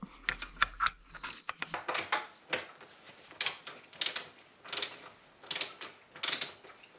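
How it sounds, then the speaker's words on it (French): Torque wrench ratcheting while tightening a bolt on a KTM/Husqvarna motorcycle fork to 45 Nm, close repeated sharp clicks and ratchet bursts in an uneven rhythm. "Serré à la clé dynamo là, 45 Nm celui-là"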